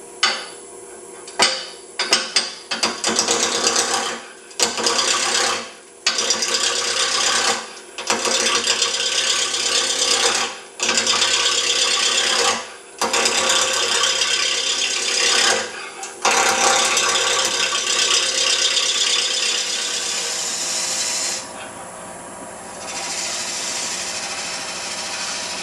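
Wood lathe spinning a Crush-Grind pepper mill blank at slow speed, rough intermittent chattering cuts in short bursts with brief pauses, then a smoother steady whir near the end, loud and close.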